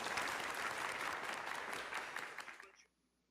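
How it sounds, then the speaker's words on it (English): A crowd at a boxing event claps steadily in a dense burst of applause that tapers off and stops abruptly after about three seconds. "Let's give a round of applause to everyone here."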